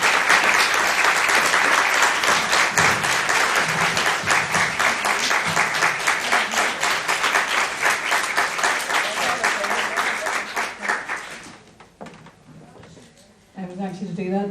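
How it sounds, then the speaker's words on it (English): Audience at a Next Chapter Newry community group event breaks into a big round of applause, loud and sustained with dense clapping for about eleven seconds before it fades, followed by a brief pause and the start of a voice. "Could everyone just have another big round of applause for Bronagh Hinds?"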